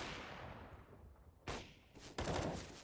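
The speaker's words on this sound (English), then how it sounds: "A couple of bullets traded back and forth" Gunfire trades back and forth in a competitive first-person shooter esports playoff match, a few faint, quick bursts of shots separated by short gaps.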